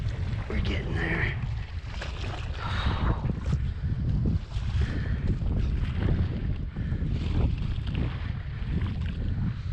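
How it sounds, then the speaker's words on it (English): Wind blows across the water during a summer kayak bass-fishing trip, a steady rushing roar buffeting the microphone, with paddle splashes and a person talking intermittently over it. "Because of the wind."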